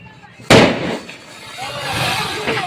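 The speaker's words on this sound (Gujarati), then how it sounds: "બધા ફટાકડા ફોડે છે બહુ જ અવાજ આવે છે ફટાકડાનો" A Diwali firecracker bursts with one loud, close bang, followed by crackling and ongoing festive noise outdoors.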